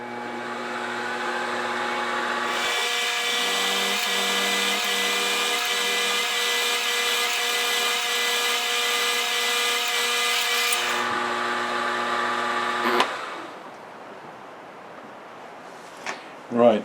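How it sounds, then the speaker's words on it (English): A drill or tapping tool works an M8 thread into metal angle for a mill table stop, a steady close whine running about ten seconds before stopping, followed by quieter workshop noise and a couple of clanks. "I'm going to tap that M8 so I can use one of the plastic knobs."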